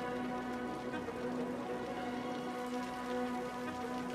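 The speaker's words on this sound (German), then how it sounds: "Also irgendwie in dem Spiel regnet es auch immer. Es regnet immer." Rain in the city-building game Cities: Skylines patters steadily and softly, with a quiet sustained tone running through the fine drizzle and no voices.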